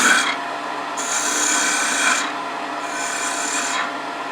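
A woodturning tool scrapes against a gouged wooden spin top ornament spinning on a lathe, a close, steady rasping hiss that comes in repeated passes with short lighter pauses between them.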